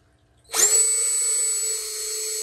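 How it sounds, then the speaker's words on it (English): Power drill boring pilot holes in wood for a wooden bat rack: a sudden high whine spins up after a brief pause and holds steady and loud, close by with no talk. "I'm gonna drill the pilot holes for us."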